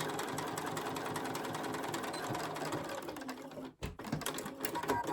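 A sewing machine stitching felt with red thread whirs in a steady, close, rapid chatter, dipping briefly in a short pause before resuming.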